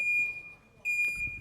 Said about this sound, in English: door ajar alarms have been installed on every set of doors on all school campuses